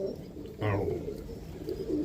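Roller pigeons coo close by, one soft low coo standing out above quiet background noise, with faint bird murmurs after it.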